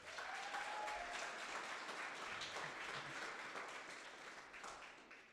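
A live in-person audience at an evening event gives a big round of applause, sustained many-handed clapping that holds steady and then slowly fades.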